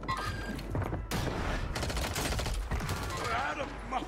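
Game gunfire from Call of Duty on Rebirth Island, dense bursts of automatic fire crackling loudly for several seconds, with clusters of shots overlapping and a brief pause early on.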